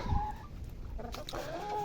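Chickens cluck and murmur close by in a short burst of busy, overlapping calls.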